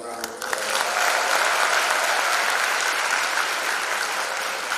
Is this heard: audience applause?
yes